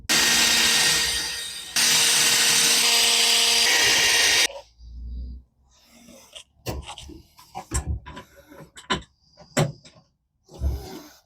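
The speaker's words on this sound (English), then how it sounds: "let's drill some holes in the floor" A power drill bores holes into a floor in two long, loud, whining bursts, followed by quieter knocks, taps and clattering handling sounds.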